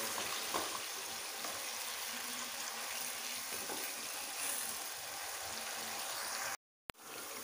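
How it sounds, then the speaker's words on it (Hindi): Chicken fries in a generous amount of oil for Peshawari charsi karahi, a steady close sizzle running the whole time with light stirring, then a brief dropout of sound just before the end. "इसको हम अच्छी तरह से फ्राई कर लेते हैं।"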